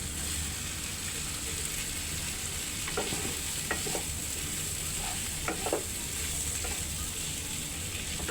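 Boiled potatoes and Malabar spinach stems are stirred into spices frying in a pan, giving a constant close sizzle with occasional light scraping clicks from the spoon.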